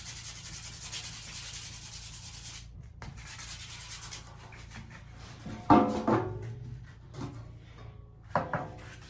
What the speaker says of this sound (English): Okay, we got some 80 grit sandpaper now. Let's start sanding this down.